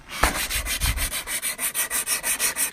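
Red spot putty on a car body being sanded by hand, a steady rhythmic scratching of regular back-and-forth strokes, close and fairly loud with no talking.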